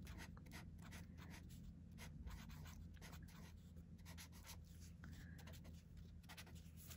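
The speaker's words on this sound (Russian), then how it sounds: "Ну, а вот с этой стороны фломастер. И я тоже напишу где-то вот в этом районе." A Tombow felt-tip marker pen writes on paper in quiet, continuous scratchy strokes, very faint and close, with no talking.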